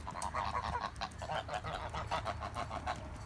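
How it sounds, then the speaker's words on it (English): Geese honk repeatedly in a dense, overlapping chorus close by as they are let out of their pen, with loud honks sustained throughout. "We got the geese out this morning."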